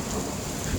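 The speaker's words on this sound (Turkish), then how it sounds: "bir kuş cıvıltısı ya da yağmur damlalarının toprağa düşüşü." Rain falling on the ground, a steady dense patter of drops with low rumbling underneath, continuous and fairly quiet, alone without voices.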